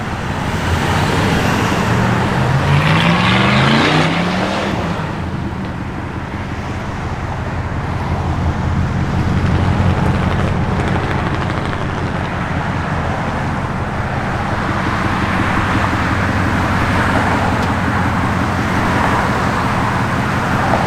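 A 1985 Chevrolet Monte Carlo SS can be heard amid steady roadway traffic noise. A vehicle passes close by early on, then a continuous moderate rumble of cars fills the rest of the clip, with no voices.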